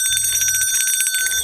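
A notification bell sound effect rings out, loud bright metallic dings in quick succession like a bicycle bell, alone with no talk.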